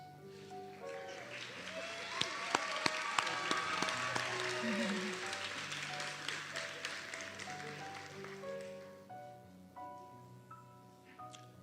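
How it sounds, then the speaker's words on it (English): An audience at a white coat ceremony claps in a sustained round of applause that swells and then slowly fades, with a musical tone and some voices underneath. "Let's give them all one more round of applause"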